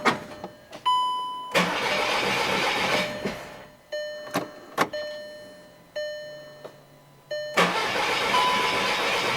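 A 2008 VW GTI engine with a freshly repaired cam chain tensioner cranks and catches repeatedly, with several loud start attempts and short bursts of running separated by pauses, close up in a garage setting.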